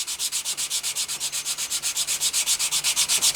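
A leather knife sheath edge is burnished along a curve with a piece of coat hanger or a dowel after sanding with 320 grit and gum tragacanth; quick, even back-and-forth rubbing strokes, close and steady, about eight per second with no talking.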